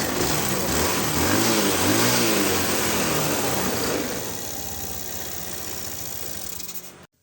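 A Honda Scoopy FI scooter engine after its spark plug was replaced runs loud and close, revving up and then settling to a steady idle before cutting off abruptly at the end.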